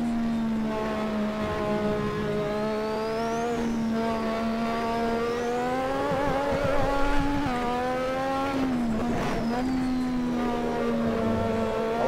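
The Lotus 98T race car engine in the game Assetto Corsa, at Spa Francorchamps, screams at high revs with a loud, continuous tone that rises and dips through gear changes and downshifts.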